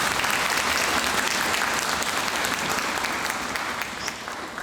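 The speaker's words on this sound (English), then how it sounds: "of applause for her as well." A concert audience applauds the piano soloist Wing Yan Chen after a spring concerto performance by the MSO, producing steady dense clapping that holds at full strength and fades slightly at the very end.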